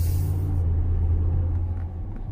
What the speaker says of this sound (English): Let's just get another acceleration right here onto this road.